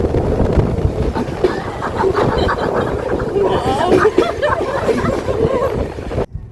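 A train at Vasco da Gama railway station in Goa gives off a steady rolling rumble and clatter. People talk over it before the sound cuts off abruptly at the end.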